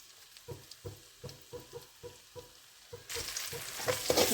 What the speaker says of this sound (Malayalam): ഇനി നമുക്കൊന്ന് വഴറ്റെടുക്കാം